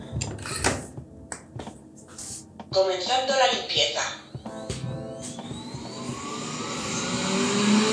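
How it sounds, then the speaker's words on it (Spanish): A Xiaomi Roborock S50 robot vacuum with a fault powers up: its suction motor and brush start with a rising whine, then stop, amid clicks and nearby talking. "el motor de aspiración enciende, se enciende la escobilla, pero se para, no hay actividad."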